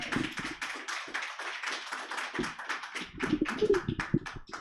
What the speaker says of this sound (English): bring her up with lots of appreciation and applause